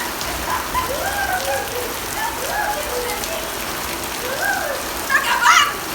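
Steady rain patters down outdoors in a dense, even hiss, with children's voices and calls rising over it now and then, loudest near the end.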